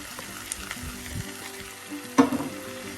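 Onions fry with heated masala powders for squid masala, a close sizzle broken by stirring scrapes and a loud metallic clank partway through.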